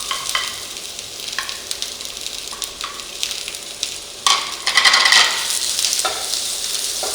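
Squid and sliced onion stir-fry in a hot pan, with a continuous sizzle and sharp scraping clinks of the utensil against the pan, louder in the second half.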